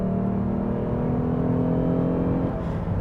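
A fourth-generation Lexus GS sedan pulls from a third-gear roll, a steady engine drone and road hum from inside the cabin that holds level throughout with no talking.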